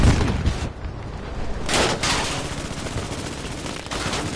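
Battlefield 5 combat rumbles with dense machine-gun fire and deep bomb blasts, a continuous loud barrage with a few heavier swells standing out through the stretch.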